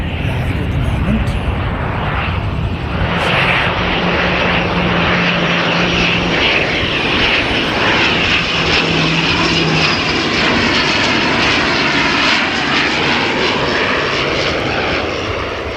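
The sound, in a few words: aircraft flying overhead during plane spotting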